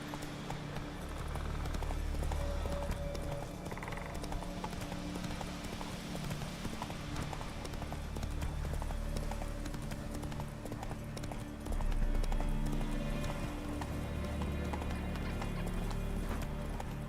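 In a video game, the horse Roach trots along with a steady rhythmic clip-clop of hooves that stays close and even throughout, over a faint game background.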